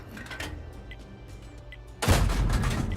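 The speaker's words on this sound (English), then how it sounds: "Somebody else did take a pot shot at him." A single tank cannon shot in World of Tanks, a sudden heavy boom with a rumbling tail that follows a stretch of low battle ambience, loud and close.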